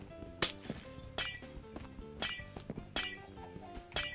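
Glass blocks shattering in a video game, about five sharp breaking crashes spaced roughly a second apart over steady background game music.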